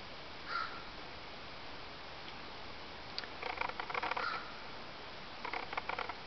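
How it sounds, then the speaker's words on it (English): A crow caws several times outdoors, short harsh calls in scattered bursts at moderate distance over a quiet background. "That's just one of the crows"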